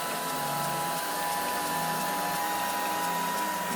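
A hair dryer blows hair smooth over a round brush, giving a continuous, even whooshing whir with a faint high whine that holds at a constant level throughout.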